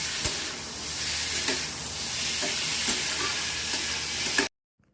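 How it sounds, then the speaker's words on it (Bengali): Chicken mince sizzles and hisses steadily in a hot pan, a loud continuous fry with a few sharp spatula scrapes and ticks, then cutting off abruptly near the end. "চিকেনটাকেও এবার একটু ভালো করে ভেজে নেব"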